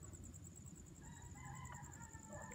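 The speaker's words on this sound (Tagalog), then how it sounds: "Tilaok ng manok." A rooster crows at a distance in a cemetery, faint against a steady background hiss and a high whine.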